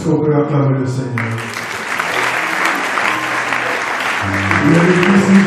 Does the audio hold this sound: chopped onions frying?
no